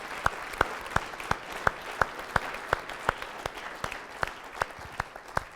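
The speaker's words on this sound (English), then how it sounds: "Give him a big round of applause." Small audience at an evening group gathering applauding a participant, a faint, sparse clapping with sharp individual claps landing at a regular, steady pace, like a few hands slowly clapping in time.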